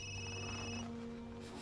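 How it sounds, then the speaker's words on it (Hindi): A phone in the video game Resident Evil Village rings with a steady electronic trill that holds briefly and then cuts off, leaving a low background tone. "इसका फोन बज रहा है."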